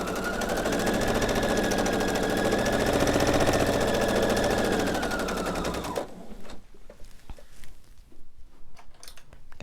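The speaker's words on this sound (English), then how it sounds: "I'm just going to remove my pins as I go and sew down the length of this seam." A sewing machine runs steadily stitching down the length of a quilt seam for a color wheel quilt, a dense continuous mechanical whir that stops after about six seconds, leaving faint handling clicks and rustles.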